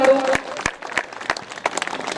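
Clapping breaks out for guests at a village ceremony opening a Shiv Shakti Mahayagya in Brahmpuri, Nepal; sharp irregular claps mixed with crowd noise and talk, fairly close and steady throughout.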